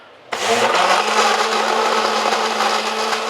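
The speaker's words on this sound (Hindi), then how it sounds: "इसको कर देंगे हम क्या, ब्लेंड।" An electric blender whirs loudly as it blends a rose lassi drink, starting abruptly and then running as a steady, close, high-pitched motor whine with no talk over it.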